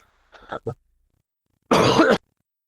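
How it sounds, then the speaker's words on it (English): A couple of short throat-clearing coughs, then a pause and one louder, harsher cough close to the microphone. "just having a coughing fit there"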